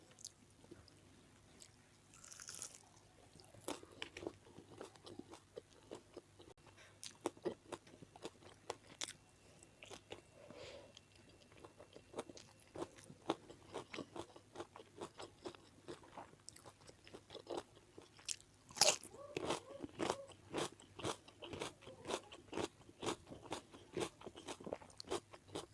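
Close, crisp bites and wet chewing on Indonesian fried chicken in a mukbang with jengkol balado: irregular crunches and smacks repeat over about half a minute, growing denser toward the end, with no talk.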